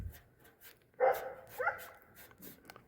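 A dog barks a couple of times at a distance, outdoors near a garage where a 1978 Chevy C10 truck is being worked on, with short yips and whimpers between quiet gaps.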